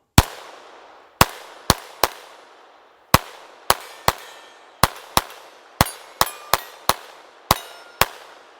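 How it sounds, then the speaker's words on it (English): An unsuppressed FN 502 Tactical rimfire pistol fires Mini Mag rounds: about sixteen sharp, loud, close cracks, some spaced apart and others in quick runs, each with a short ringing tail, with no talking. "So I'm gonna shoot this a few times with some mini mags, and we're going to end the video here."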